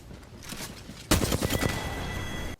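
Flatline assault rifle fired in a video game, a rapid close burst of gunshots that starts loud and abrupt and runs for over a second before stopping, with no voices.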